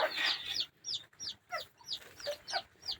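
A young chicken clucks in a quick, steady run of about seven short, close calls, with no talk over it.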